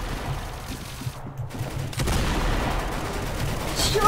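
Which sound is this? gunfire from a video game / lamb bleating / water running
gunfire from a video game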